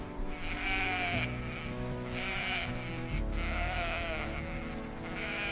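Sheep bleat in a flock, several overlapping wavering calls in a steady run, close and fairly loud with no talking.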